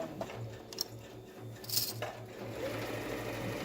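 A sewing machine stitches pleats held under light pressure, running in steady rhythmic bursts of motor hum with a few small clinks, close and moderately loud.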